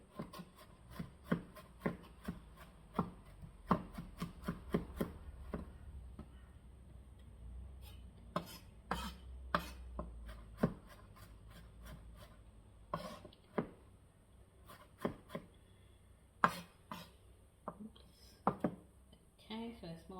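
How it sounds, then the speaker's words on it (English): Knife chopping ingredients for five spice chicken: irregular sharp taps on a board, some in quick bursts and others spaced apart, fairly close, with a faint voice now and then. "So I've chopped it to about that sort of size."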